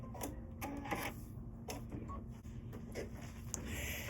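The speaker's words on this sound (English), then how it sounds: "this is going to stitch the decorative top stitching over the top of the satin stitch" A sewing machine runs decorative top stitching over a satin stitch, a quiet, rapid mechanical chatter broken by short bursts and pauses, heard close over a low background hum.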